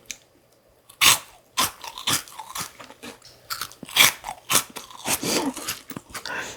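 A crunchy cheese ball being bitten and chewed up close, with a series of sharp, loud crunches and crackles in uneven bursts against a quiet background.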